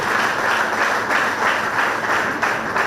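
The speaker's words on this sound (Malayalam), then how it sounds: "നമുക്ക് ഇവർക്ക് നല്ലൊരു കയ്യടി കൊടുത്ത് ഇവരെ അഭിനന്ദിക്കാം" An audience gives warm applause for a group of twenty general nursing and midwifery students at their lamp-lighting ceremony at a nursing school attached to a hospital, with steady, dense clapping sustained throughout at close range.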